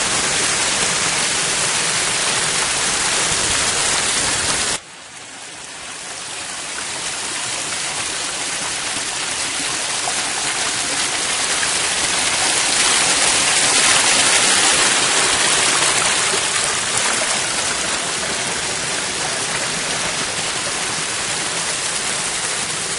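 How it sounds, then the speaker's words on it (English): A small woodland brook in a state park flows with a continuous close, broadband rush of water that briefly dips in level before resuming steady. "Get across this little brook here."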